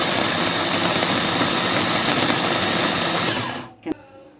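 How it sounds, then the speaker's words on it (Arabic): An electric blender grinds onion and peppers with a loud, steady, continuous whir that cuts off abruptly near the end, followed by a brief clunk. "دلوقتي هنضرب بقى البصل والفلفل، هننعمها بقى خالص خالص اهو"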